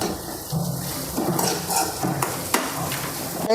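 Green chilies and curry leaves hit sautéed onions in a pan with a steady sizzle, broken by stirring scrapes and a few sharp utensil clinks against the pan.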